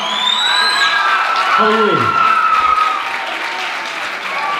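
Lively audience applause and cheering at the Carracastle Lass 2013 contest, dense clapping with whoops and shouts rising over it, a voice speaking briefly on top.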